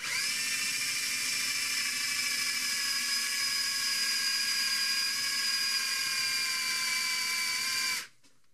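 A power drill driving screws into wood on a sailboat: a loud, steady high-pitched whine held for about eight seconds, then cutting off abruptly, with no talking.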